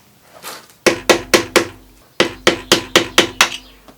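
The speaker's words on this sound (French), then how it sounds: "Tournevis, marteau." A hammer strikes a flat screwdriver on a 1989 Harley-Davidson Sportster 1200 in rapid metallic blows, two bursts of about five and six hits, loud and close, with a faint tap before them.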